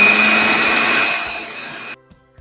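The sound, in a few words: mixer grinder grinding soaked rice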